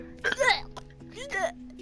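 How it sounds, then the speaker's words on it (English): A man's hiccups come in two quick, gulping bursts close to the microphone, with a steady background hum underneath. "I seem to have rather disgusting hiccups"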